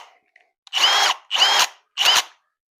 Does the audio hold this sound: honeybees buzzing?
no